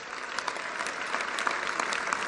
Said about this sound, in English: a big round of applause for our POWs and MIAs.